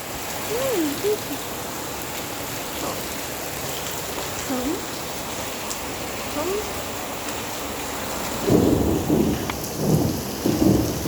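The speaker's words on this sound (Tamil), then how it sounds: "இப்படி இன்னும் போக போக மழை அதிகமாகிட்டா போகுது" Heavy rain pours steadily with rumbles of thunder, a continuous close wash of rainfall that swells louder toward the end, with occasional faint voices in the background.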